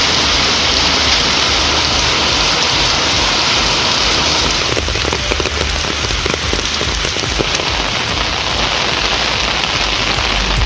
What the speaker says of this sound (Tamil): நாகை மாவட்டம் திருக்குவளை சுற்றுவட்டாரத்தில் கனமழை பெய்தது.